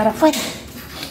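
A small dog whimpers indoors in a couple of brief, high whines near the start, partly under someone speaking Spanish close by.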